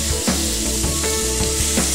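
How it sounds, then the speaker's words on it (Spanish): Fish searing in a hot pan for garlic-style fish, a steady dense sizzle with light crackles and occasional stirring or scraping, close and continuous with no talk. "vamos a agregar lo que es el pescado y se va a empezar a sellar"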